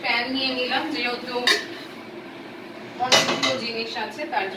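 In a home kitchen a pan and metal utensils clatter and clank in two sharp bursts with short ringing tails, and a voice talks briefly between them.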